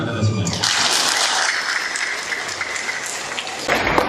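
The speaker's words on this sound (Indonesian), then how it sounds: "Tepuk tangan kepada semua." Audience at a business seminar breaks into steady, dense applause that holds for several seconds, fairly loud and filling the room, with some voices mixed in beneath it.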